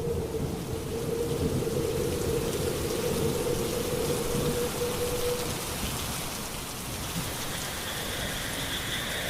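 A thunderstorm with heavy rain pouring steadily on surfaces and a low rumble of thunder rolling beneath, continuous and enveloping with no voices.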